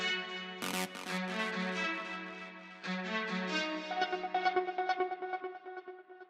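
An acid synth line layers over a sustained low string pad in a 90s dream trance arrangement, with the pad holding steady while the acid part bubbles in quick repeating notes toward the end, free of speech.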